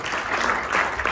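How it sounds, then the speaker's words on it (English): Fans in a women's cricket crowd cheer and applaud in a dense, loud burst of broadband noise that holds steady for about a second. "A big cheer there, a lot of fans in the crowd."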